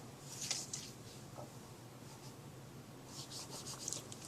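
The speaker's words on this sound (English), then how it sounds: "So we'll do a little erase job." Eraser rubbing out writing on a board during an algebra lesson on inequalities, faint scattered scrubbing strokes in a quiet room.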